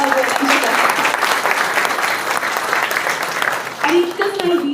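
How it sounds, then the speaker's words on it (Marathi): Vigorous audience applause at a Marathi musical play performance, a loud, dense wall of clapping throughout, with a voice speaking briefly over it near the start and again near the end. "सगळ्यांनी प्लीज जोरदार टाळ्या वाजवा"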